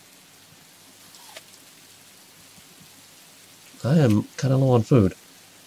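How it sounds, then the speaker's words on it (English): Steady rain in the survival game Rising World, a soft continuous hiss of falling drops throughout, with someone talking briefly over it near the end. "Oh, now it rains."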